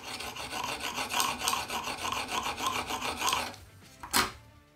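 Sharpening stone rubbed over a serrated knife edge to remove the burr, a close, rhythmic rasping scrape of repeated strokes for about four seconds, ending in a single louder scrape.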